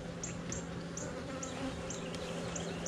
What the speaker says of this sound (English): Doesn't seem to be any shortage of bees.